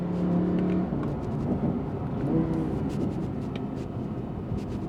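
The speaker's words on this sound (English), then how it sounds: "Then you hear that engine, and then you could really push it." An Audi R8 Performance engine hums steadily with a low whir, cruising and building speed, continuous and fairly loud throughout.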